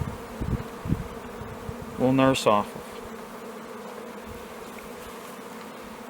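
A steady honeybee buzz hums throughout at an open hive, with a brief burst of a voice speaking partway through.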